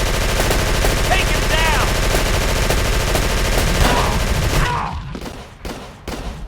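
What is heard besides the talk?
gunfire in the video game Call of Cthulhu: Dark Corners of the Earth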